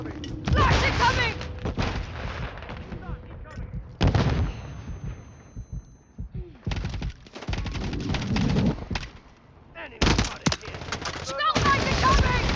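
Heavy gunfire from a video game shooter erupts in dense, loud bursts and rattling volleys, separated by short lulls between the firefights.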